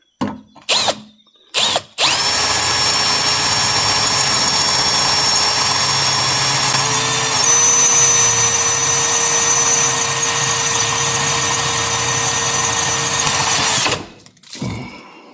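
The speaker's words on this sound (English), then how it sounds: "All right, I got my pilot hole started." A power drill bores a pilot hole for a bolt during a pond build, whining loudly and steadily for about twelve seconds after a few short bursts, its pitch stepping up briefly midway before it stops.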